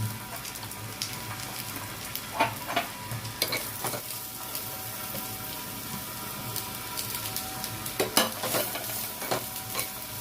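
Cloves and black pepper dry-roasting in a pan, stirred through a steady low crackle with scattered sharp scrapes and clicks at close range, no voices.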